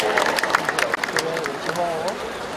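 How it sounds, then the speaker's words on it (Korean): Audience applause fills the hall at the 29th Icheon Citizens' Day award ceremony, a busy, continuous patter of clapping with voices and crowd chatter mixed in. "큰 박수로 함께 축하해 주십시오"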